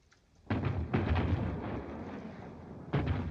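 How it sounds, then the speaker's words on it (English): Distant gunfire from army maneuvers in a 1941 film comedy, heavy rumbling bursts of firing that roll on continuously, with a fresh burst near the end. "What's that shooting? Must be some other outfit having maneuvers."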